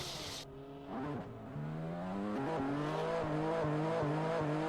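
A car in the Assetto Corsa racing game revs hard and accelerates while sliding sideways, its engine note climbing steadily in pitch with brief tire-squeal bursts, loud and continuous with no talking.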